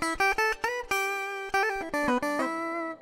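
Clean electric guitar run through an Ableton rig with an octave-up pitch effect blended in, several chords and notes struck with clear gaps between them and bright shimmering doubled tones ringing out, close and unaccompanied.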